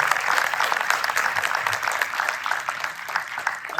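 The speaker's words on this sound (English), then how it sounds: "let's give a round of applause for the success that she had" An audience at an interview session applauds with dense, even clapping, close and fairly loud throughout, with no talking over it.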